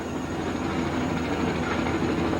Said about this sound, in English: what's that noise? That's a helicopter.